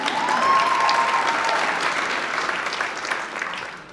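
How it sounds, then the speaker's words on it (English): Audience at a live storytelling night applauds steadily, a dense wash of many hands clapping that holds strong and slowly eases toward the end, with no talking over it. "Go ahead, you can applause."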